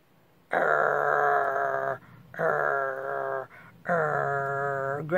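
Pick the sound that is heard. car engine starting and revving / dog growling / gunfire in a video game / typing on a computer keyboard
dog growling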